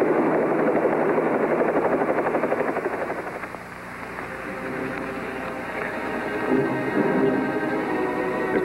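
A helicopter flies with a loud, steady rotor chop and turbine whine that dips briefly and then swells again.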